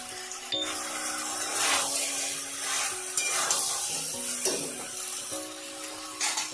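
Green chillies go into frying ridge gourd and potato masala, which gives a steady low sizzle broken by stirring and scraping sounds, along with faint background tones.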